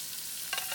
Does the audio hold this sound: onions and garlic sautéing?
yes